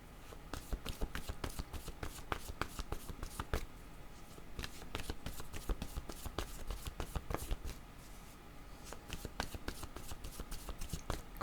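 Tarot cards shuffled by hand, a quiet continuous run of rapid papery riffles and flicks, close up and steady.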